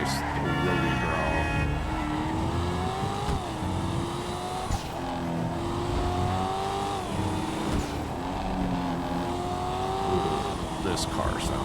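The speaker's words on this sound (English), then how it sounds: "This car sounds amazing." A sports car engine in GTA Online revs and shifts through gears, its pitch rising and dropping steadily under a continuous game soundscape, with faint tire noise and a voice talking in the background.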